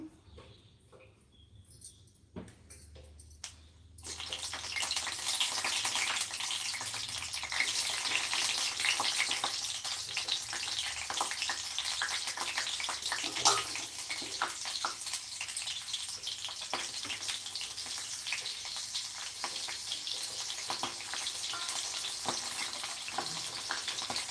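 Green chillies frying in hot oil in a pan, a dense, steady crackling sizzle that starts abruptly after a quiet moment and continues without talk.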